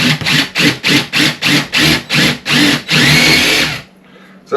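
A power screwdriver drives a screw while a door lock is fitted, whirring in about nine short, evenly spaced bursts that end in one longer sustained run before stopping, close and loud with no talk.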